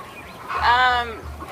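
A backyard chicken gives a single loud, drawn-out squawk lasting about half a second, close by, against quiet low background noise.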